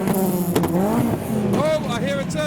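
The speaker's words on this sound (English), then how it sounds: "Oh, I hear a turbo." A turbocharged Nissan S13 revving at a car meet rev battle, the engine pitch rising and falling through several loud, close revs, with voices talking underneath.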